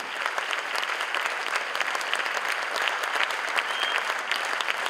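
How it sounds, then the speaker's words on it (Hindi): An audience claps for a performer named Vrishali at a Disability Day charity show, a dense, even burst of applause sustained throughout at moderate loudness, with no voices over it. "जोरदार ताली हो जाए वृषाली के लिए।"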